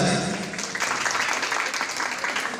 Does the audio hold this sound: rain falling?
no